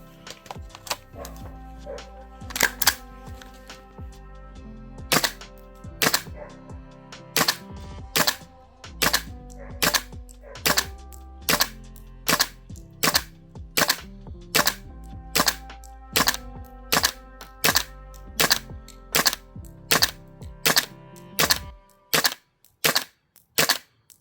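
Gas blowback airsoft rifle firing outdoors at -7°C, a long run of sharp, loud, evenly paced single shots with a clacking bolt cycle on each, speeding up near the end before the magazine runs dry.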